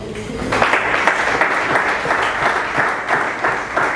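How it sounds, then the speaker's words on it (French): Audience applause at a gathering marking sixty years since Lumumba's sacrifice, swelling in suddenly after a brief quiet moment and then holding loud and steady. "à qui je demande encore des applaudissements"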